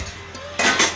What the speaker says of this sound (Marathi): आता मी आधी जरा भांडी वगैरे लावते